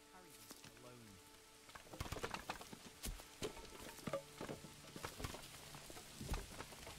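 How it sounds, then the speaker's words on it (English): Rain falling in the Manor Lords video game, soft scattered patter and drops that thicken after the first couple of seconds, fairly quiet, with faint tonal game sounds underneath. "And it's raining again."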